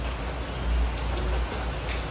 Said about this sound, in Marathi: पाऊस थांबला की जातो घरी, खाली जाऊन थांबतो.